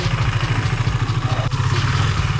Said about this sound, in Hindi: आगे नहीं जा रहे बाइक।